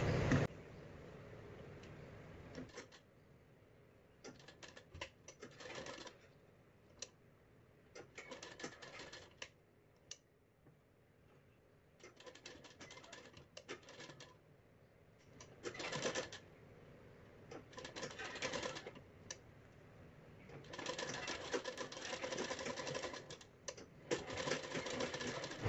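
A sewing machine stitches a straight fabric strip onto a blouse to form piping, running in short rattling bursts separated by brief pauses, faint and close.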